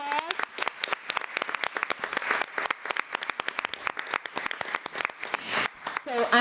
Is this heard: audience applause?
yes